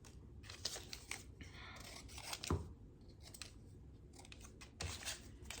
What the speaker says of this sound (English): This tag is really big, so I'm just gonna cut it again